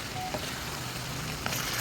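Ground meat sautéing in a pan with garlic and onion, a soft, steady sizzle, faint and continuous, with no voices.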